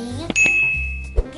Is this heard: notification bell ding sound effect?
yes